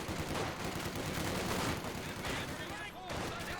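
Machine gun fire rattles in a Company of Heroes 2 tournament match, sustained bursts of battle noise with other gunfire and explosions mixed in under a dense, loud wartime soundscape.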